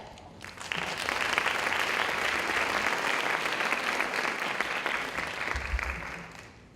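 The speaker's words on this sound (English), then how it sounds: "And why don't you keep applauding for our next presenter, Joyce Brown from Flamingo Clay Studios" Sustained audience applause at an awards event at Lynn University, a dense wash of clapping that swells quickly and holds steady for several seconds before tapering slightly.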